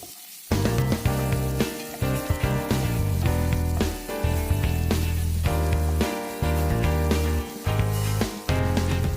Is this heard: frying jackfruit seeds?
yes